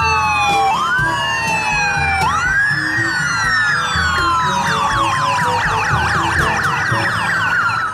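A loud electronic siren from a toy police patrol motorcycle wails continuously, its tone sweeping up and down in fast repeating cycles, toy-like and close with no talking.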